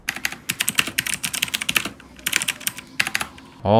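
Rapid, crisp clicking of a blue-switch mechanical keyboard, with bursts of sharp key presses typed close up and short pauses between runs.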